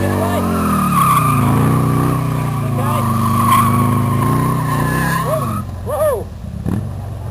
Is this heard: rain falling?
no